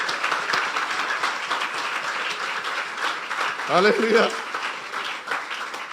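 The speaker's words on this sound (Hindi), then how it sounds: "इन बच्चों के लिए एक दफा फिर से जोरदार तालियां।" A church congregation claps loudly for the children during a sermon, steady applause with a voice calling out over it near the middle.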